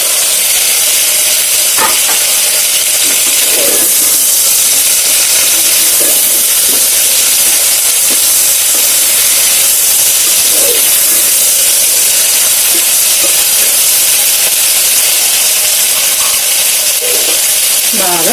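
Onions fry in a hot pan with a loud, continuous close-up sizzle and hiss, broken by occasional stirring scrapes, with no talking.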